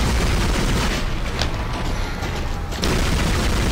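Loud, dense gunfire bursts in the video game Dead Space, a continuous barrage of close booming shots that briefly eases before resuming at full force.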